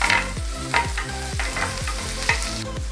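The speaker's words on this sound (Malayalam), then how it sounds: "ഇതെല്ലാം കൂടെ നമുക്ക് മൂപ്പിച്ചെടുക്കാം." Sliced garlic and ginger sizzle in a pan for restaurant-style chilli pork while a spatula scrapes through them in quick, regular strokes, several in a row, close and loud, with no voices.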